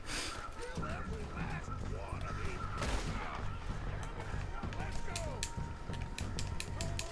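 Rapid gunfire in the GTA video game, set in a cowboy-style shootout, crackling in dense bursts throughout alongside clicking mechanisms, with people talking over it.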